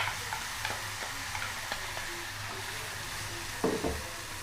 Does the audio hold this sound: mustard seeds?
yes